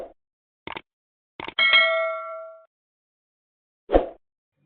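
Several short clicks are followed by one bright metallic notification ding that rings and fades, then a final soft knock, all set in silence.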